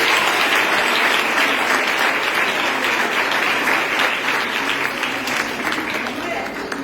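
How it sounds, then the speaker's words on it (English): Sustained applause from an audience at a speech event, a thick continuous wash of many hands clapping at full volume for about seven seconds and easing slightly at the close. "A round of applause."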